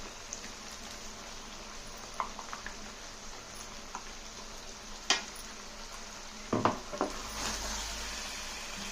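Chicken curry with cashew and poppy seed paste frying in oil gives a soft, steady sizzling hiss, with a few faint scraping and stirring clicks and a couple of louder knocks near the end.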